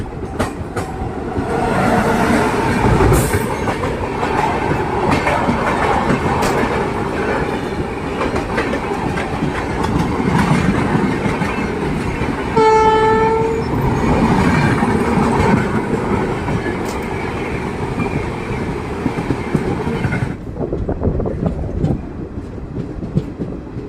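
Garib Rath Express passenger train running near Karnal railway station, with continuous rumbling clickety-clack of wheels on track and a short horn blast partway through, then fading out near the end.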